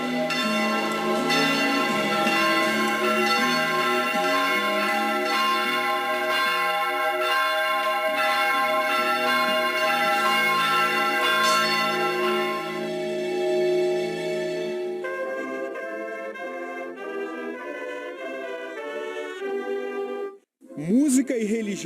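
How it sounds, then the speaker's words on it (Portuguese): Large church bells ring out in a long, sustained peal, rich overlapping tones filling the space, loud and continuous, fading toward the end before a brief different sound. "torres altas e sinos enormes que soam entre vales e montanhas"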